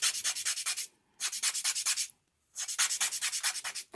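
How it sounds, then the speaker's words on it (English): Sandpaper scrubbing graphite powder off a drawing surface, a dense run of quick rasping strokes in three bursts separated by short pauses, close and fairly loud. "And as I'm sanding it"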